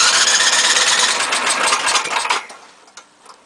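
A small gas engine on a snow blower or mower, with the choke on and the throttle up, makes a loud, rough, buzzing run-up for about two seconds. It then cuts out abruptly, leaving faint clunks.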